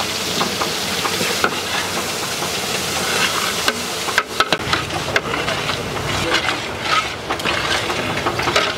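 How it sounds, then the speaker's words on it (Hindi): Sliced onions frying in hot oil in a large pot for Rajwada mutton, a loud continuous sizzle with scraping and clattering from stirring, occasional sharp knocks of the spoon. "अब प्याज डालेंगे।"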